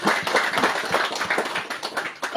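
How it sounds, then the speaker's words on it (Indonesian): A church congregation in Alor, East Nusa Tenggara, bursts into brisk, dense hand clapping that runs nearly loud and even before swelling at the end. "Beri tepuk tangan dulu buat Tuhan."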